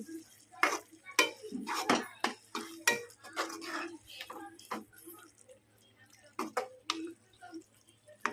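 A utensil stirs ground coriander into a bitter gourd curry in a pan, giving irregular close scrapes and clinks of metal against the pan, with quiet pauses between strokes.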